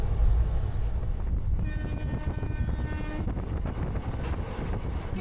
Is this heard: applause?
no